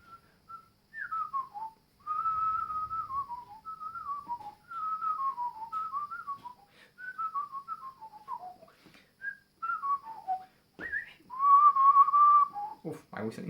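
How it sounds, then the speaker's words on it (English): A person whistles a lyrical Brahms cello melody alone, with clear falling phrases repeated in a steady flowing rhythm, fairly close and moderately loud, ending on a brighter sustained note. "Oof, I'm whistling."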